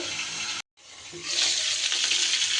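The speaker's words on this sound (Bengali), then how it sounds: "একটু ঢাকা দিয়ে দিয়ে ভাজবো, তাহলে ভাজার সাথে সাথে পটলটা কিন্তু তাড়াতাড়ি সিদ্ধও হয়ে যাবে।" Oil sizzles steadily as pointed gourd fries in a pan, briefly cut off by a lid, then returning louder with a bright, crackling hiss.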